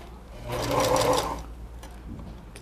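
A sewing machine runs a short safety seam through a patchwork carnival princess crown with wire and a thick wool layer, whirring briefly and closely in one burst, then falling quiet.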